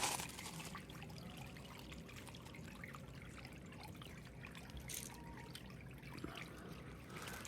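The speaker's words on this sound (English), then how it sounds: "we've got me little water fountain on" A small garden pond water fountain trickles steadily and quietly throughout, a soft continuous dribble of water with faint outdoor background noise and no talking.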